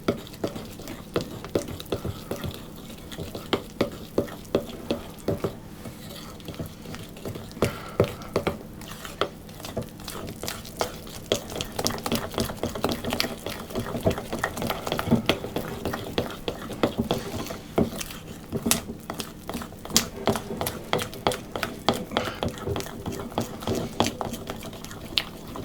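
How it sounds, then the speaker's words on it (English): Icing sugar is stirred into a paste in a bowl for topping spiced honey cookies, giving a long run of quick, fairly faint scraping and clicking strokes in a steady rhythm. "I'm just mixing this until it's quite smooth."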